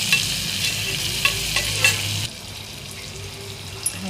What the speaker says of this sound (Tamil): நான் இதை நல்லா கிளறி விட்டுக்கலாம்.